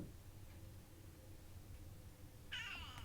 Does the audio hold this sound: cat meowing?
yes